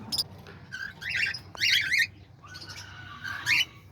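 Pet birds in a home aviary, including cockatoos, parakeets, lovebirds and diamond doves, chirp and squawk in bursts of bright, high calls over a low, steady background hum.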